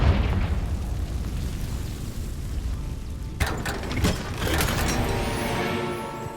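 Confringo fire spell explosion in Hogwarts Legacy, a sudden loud blast with crackling burst that rises over a continuous rumbling game background and lingers for a few seconds.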